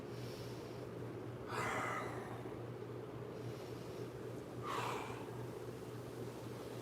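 Breathing during an acro yoga warmup: two slow, soft breaths a few seconds apart, faint and airy over a steady low background hum, with no talking.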